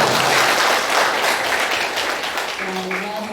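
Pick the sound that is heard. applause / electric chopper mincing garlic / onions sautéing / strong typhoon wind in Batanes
applause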